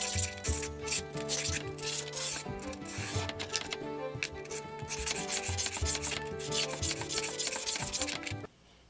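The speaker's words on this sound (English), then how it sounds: "Hit it with the 80 grit first. That quickly takes the surface and flattens it right out." A steel spokeshave blade cut from an old saw blade is rubbed on 80 grit abrasive in fast, steady rasping strokes that run for several seconds and stop abruptly near the end.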